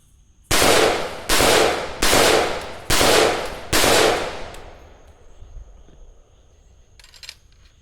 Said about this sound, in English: 62 grain M855 bare muzzle.